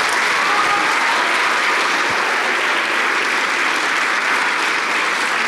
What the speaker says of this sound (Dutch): Lieve mensen, mag ik een heel groot applaus